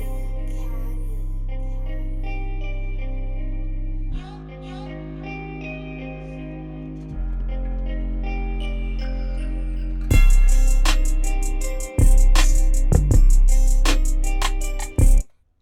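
A music beat with a small guitar part, loud sustained bass and layered tones, then the drums and guitar grow busier and louder toward the end before stopping suddenly.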